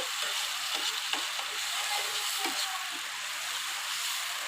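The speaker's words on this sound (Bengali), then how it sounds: "পরিমাণ মতো সমস্ত উপকরণগুলো আমি খুব ভালোভাবে নেড়ে চেড়ে নিচ্ছি" Spices for a koi fish mustard curry are stirred in a pan, giving a soft, steady sizzle with faint scraping and tapping of a utensil. The sound is close and low in level, with no talk.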